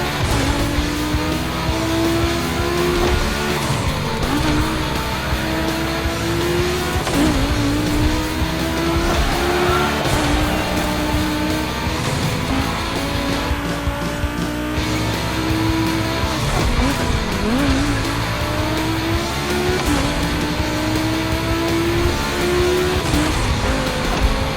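Volkswagen race cars on a gymkhana track in The Crew Motorfest, engines droning loudly and steadily while tires squeal and skid in repeated long sweeps, with no talking over the continuous roar.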